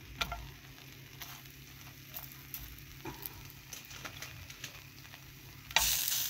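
Puff pastry frying in a little oil over low heat gives a soft, continuous sizzle with faint scattered pops and light scraping, ending in a brief louder burst of frying noise.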